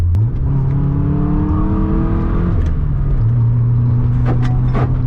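A Nissan S13 240SX with a 90s-style build cruises through a neighborhood, its engine droning loudly and steadily from inside the car as it revs up and shifts, with no voices.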